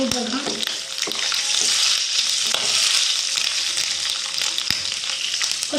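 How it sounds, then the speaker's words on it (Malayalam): Grated coconut frying in hot ghee for payasam, a steady, loud sizzle with scattered crackles and stirring scrapes, almost no talk. "ഇനി നമുക്ക് തേങ്ങ ഇട്ട് വെക്കാം"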